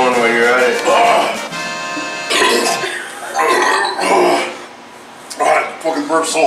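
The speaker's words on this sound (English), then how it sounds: "I fucking burped so hard." A loud, drawn-out burp right after chugging Seagram's from a triple-barrel setup, followed by further belching and boisterous voices over the next few seconds.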